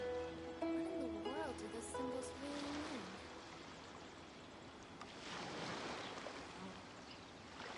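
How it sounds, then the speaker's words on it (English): Ocean surf in the Genshin Impact game, a steady broadband wash of waves that swells again in the second half, with tonal music or voice sounds layered over the opening seconds. "Sound of the ocean waves"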